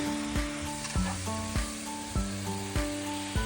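Teriyaki sauce hitting a hot pan, a close sizzle with a series of sharp clinks and scrapes from stirring roughly every half second, no voices over it.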